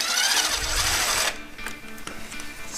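Rusty exhaust nuts and studs on a Honda Dream motorcycle being undone with a power tool: a loud, steady buzzing rattle for over a second, then stops, followed by softer metallic clicks and taps.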